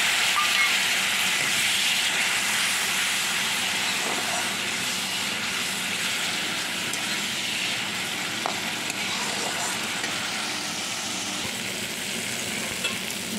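Water from rinsing a spice bowl poured into a hot pan of dahi baingan with turmeric, setting off a loud, steady sizzle and hiss that holds for the whole stretch, with faint stirring clinks and no talking.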